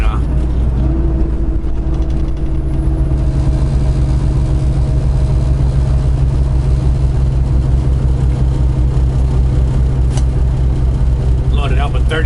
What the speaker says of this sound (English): Got her in 10th gear, but I'm gonna have to downshift right now.